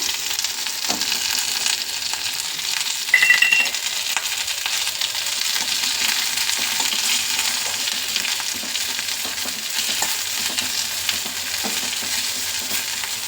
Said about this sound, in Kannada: ಇನ್ನು ಸ್ವಲ್ಪ ತುಪ್ಪ ಹಾಕ್ಬಿಟ್ಟು ಈಗ ಜೀರಿಗೆ ಹಾಕ್ಕೊಳ್ಳೋಣ